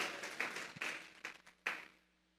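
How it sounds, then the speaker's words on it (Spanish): A church congregation at a Sunday service claps in a short scattered burst of hand claps that fades out after about two seconds. "Vamos a regalarle ofrenda de palmas al Dios de la gloria."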